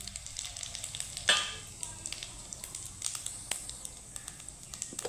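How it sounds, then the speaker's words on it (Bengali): Whole cumin, cardamom, cinnamon and dried chili sizzle in hot oil, a close crackling patter with sharp pops and one louder burst early on, over a soft steady hiss. "এখন ফোড়নে দিয়ে দিব এখানে গোটা জিরে নিয়েছি এলাচ দারচিনি আর শুকনো লঙ্কা দিয়ে দিব"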